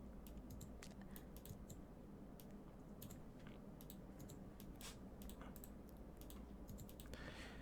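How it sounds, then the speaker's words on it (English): Dutch types quickly on a computer keyboard, a dense run of rapid, close key clicks continuing throughout with no talk. "Dutch is a very fast typer."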